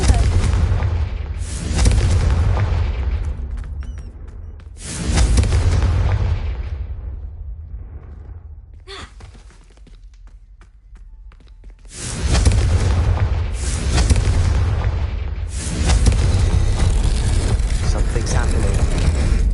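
Confringo fire-spell blasts in the Hogwarts Legacy video game, deep booming explosions with crackling tails in several bursts, separated by a quieter stretch, with game voices over some of them.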